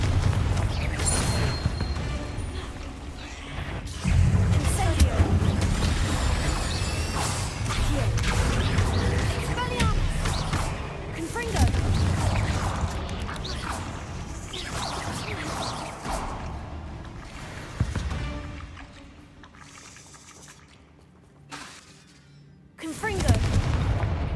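Confringo fire-blast spells in the video game Hogwarts Legacy, loud repeated booming explosions and whooshes in rapid succession amid mechanical crashes, with a voice shouting over the combat.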